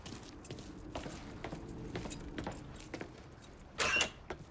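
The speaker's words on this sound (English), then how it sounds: "Keys in the other room. Grab them so we can get the hell out of here." Truck keys jangle in the Mafia III video game, a few light metallic clinks over a low ambient background, ending in a brief louder rattle.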